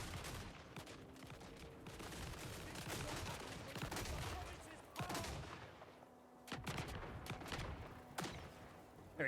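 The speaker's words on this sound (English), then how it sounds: "So these guys are using magazine-fed rifles." Magazine-fed rifles firing in a Total War Warhammer 3 battle, rapid overlapping volleys crackling continuously at a distance with brief lulls, a dense rattle of many shots rather than single reports.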